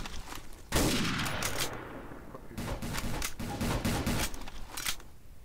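Gunfire in a video game comes in a few loud bursts of shots, each volley crackling and echoing before short gaps, with no speech over it.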